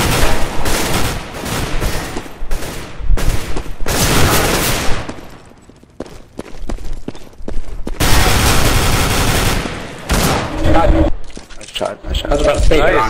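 Rapid bursts of automatic and rifle gunfire in Counter-Strike: Global Offensive, loud and dense, with overlapping shots in clustered volleys and brief gaps between them.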